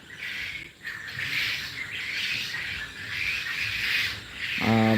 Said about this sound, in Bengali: আর প্রায় পাঁচ হাজারের মতো বাচ্চা ব্রুডিং হচ্ছে